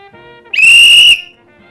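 A single loud, shrill whistle blast lasting about half a second, clear and piercing, with quiet before and after.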